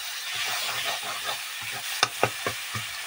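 Spices with turmeric fry with fish head, potato and banana flower in a pan, a continuous sizzle with several sharp scraping stirs near the end, close and unvoiced.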